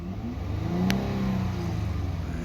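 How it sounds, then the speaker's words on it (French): A camper van engine revs up from idle as the gas pedal is pressed, giving a steady, close, loud mid-pitched drone that rises slightly and holds with no talking. "Et si je pèse sur le gaz"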